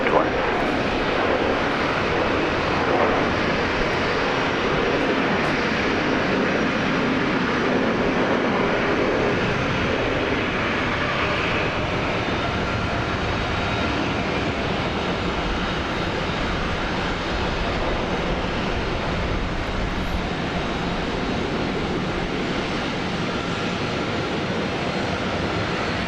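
A Virgin airliner takes off at Brisbane Airport, a steady, broad jet roar heard from a distance that holds at constant loudness and fills the whole stretch.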